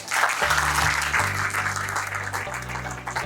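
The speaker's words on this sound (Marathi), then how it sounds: "त्यांच्यासाठी एकदा टाळ्या" An audience breaks into applause, a dense burst of close hand clapping that holds steady for about three seconds over a low sustained hum.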